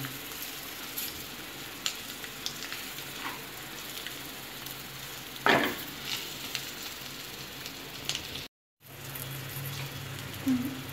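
Egg pepper fry is stirred in a pan, giving a steady low sizzle with light scraping and clinks, one sharper scrape in the middle and a brief gap of silence near the end.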